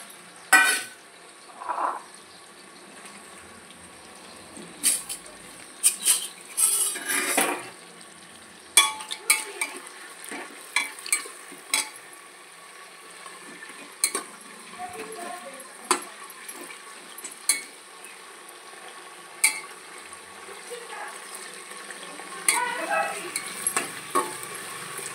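Whole spices sizzle in hot oil in a pan while a spoon stirs them, with repeated scraping clatters and bursts of crackling over a quiet, steady fry.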